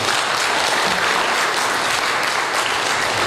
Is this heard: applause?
yes